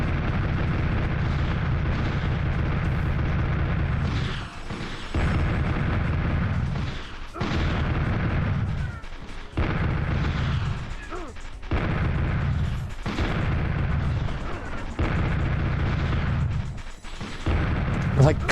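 Gunfire and explosions in the PlayStation game Army Men: Green Rogue, dense continuous booming and rumbling blasts broken by brief pauses, with a voice talking at times over the din.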